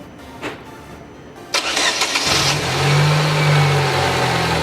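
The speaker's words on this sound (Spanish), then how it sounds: "Vamos a echar a andar el motor" A car engine cranks and catches, then settles into a steady mid-pitched idle, heard up close with no talking.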